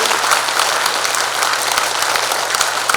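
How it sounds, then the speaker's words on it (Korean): Sustained applause from an audience at a Democratic Party regular delegates' convention in Jungnang, dense steady clapping throughout with a faint low hum beneath. "우리가 힘찬 박수를 한번 보내주십시오"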